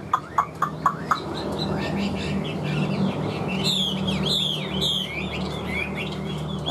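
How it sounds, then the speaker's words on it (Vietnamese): A Chinese hwamei songbird sings from nearby, with rapid, varied chirps and whistled phrases running over a faint background hum for several seconds, no talking. "Các bác có thể thấy chim đang hót một cái dáng dấp rất là đẹp đúng không?"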